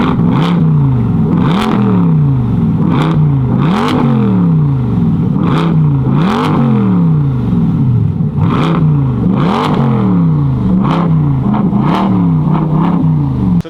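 A C8 Corvette fitted with a Borla exhaust revs hard again and again, each loud throttle blip rising and falling in a steady rhythm of about a dozen bursts, close and clear with no talking.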